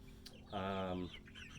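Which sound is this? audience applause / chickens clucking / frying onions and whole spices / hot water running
chickens clucking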